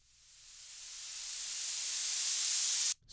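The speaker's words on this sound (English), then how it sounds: "Simple white noise effect straight out of the sample pack." A reversed, shortened white noise riser from an Ableton sample pack swells steadily from faint to loud hiss over about three seconds, then cuts off abruptly.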